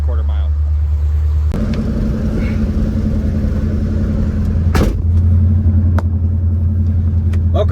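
Car engine idling from inside the cabin, a deep steady rumble that grows heavier partway through, loud and close.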